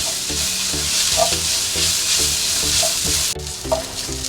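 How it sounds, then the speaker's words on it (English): Spices, crushed chili and shaved coconut dry-roast in a pan for Bellari beef roast, with a steady loud sizzle and rhythmic metallic scraping strokes of a spoon, close up and with no voices. "So we're gonna dry this, cook all the spices."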